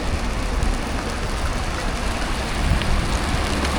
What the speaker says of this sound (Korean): 이거 우박인데?